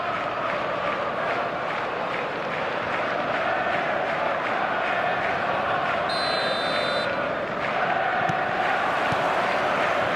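Stadium crowd in an eFootball match, a steady loud roar with chanting that runs throughout, with a brief high electronic tone partway through.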